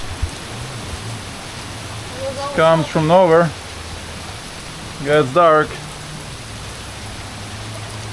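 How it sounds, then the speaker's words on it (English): Heavy tropical rain pours steadily onto a sailboat at anchor in the British Virgin Islands, a dense, even hiss filling the whole stretch, while someone speaks briefly twice over it. "That's a proper rain."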